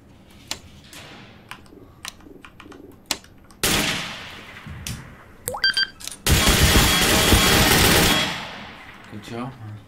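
Video game gunfire on an online server crackles in scattered single shots, then bursts into two long, loud sustained volleys, with ticking sounds in between.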